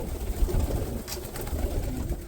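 Pigeons in a loft coo low and soft in overlapping murmurs, a steady close rumble of calls with faint rustling and no voices.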